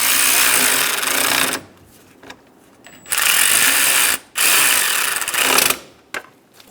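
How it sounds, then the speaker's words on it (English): A ratchet snugs down the radiator fan bolts on a 2010-2014 Subaru Outback, heard as close, bursty clicking runs separated by short quiet pauses. "Snug the bolts down."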